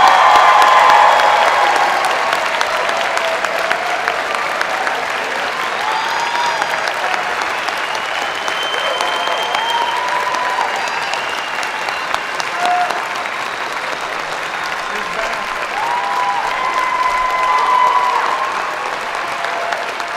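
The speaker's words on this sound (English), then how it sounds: "please join me in a round of applause acknowledging our graduating class of" A large convocation audience gives sustained applause for a graduating class, dense continuous clapping filling a hall for the full length, swelling slightly near the start and again toward the end.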